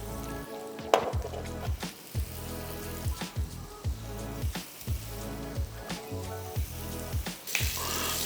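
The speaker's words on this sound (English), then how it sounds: "I'm going to be searing off my paneer here" Paneer sears in a hot pan with a steady broadband sizzle. Soft clinks and shuffles recur about once a second as the pieces are moved or turned, with no voices.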